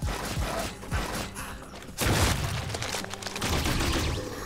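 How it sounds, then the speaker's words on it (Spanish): Cannonball fired in the demonic shooter Project Warlock 2, a loud booming blast with mechanical clanks and impact thuds amid busy in-game action, strongest around the middle. "disparo una bola de cañón"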